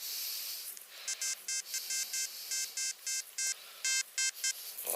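A C.Scope 6MX metal detector sounds its medium tone as a series of short, evenly pitched electronic beeps in quick, slightly irregular pulses over a faint steady hiss, close and clear.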